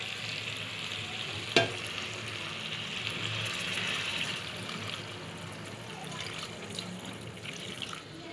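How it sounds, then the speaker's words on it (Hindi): Potatoes for aloo bhujia fry in a pan as water is poured in, giving a continuous hissing sizzle with a single sharp click early on and the bubbling slowly easing toward the end. "मुझे इसे फ्राई करते हुए 4 से 5 मिनट गुजर गए हैं, तो मैं अब इसमें पानी शामिल कर देती हूँ।"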